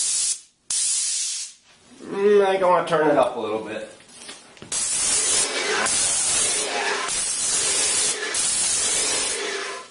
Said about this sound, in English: have a piece of cardboard handy, something that you can do a couple test sprays on